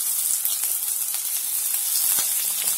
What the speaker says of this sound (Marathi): जिरं मोहरी झाले की यात आपण आलं लसूणची पेस्ट घ्यायची